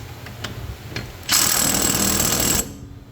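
An impact wrench spins off the PTO bolts on a Cub Cadet RZT 54 riding mower with a 5/8 socket, a loud steady burst of about 1.3 seconds, close up, after a few faint clicks and taps.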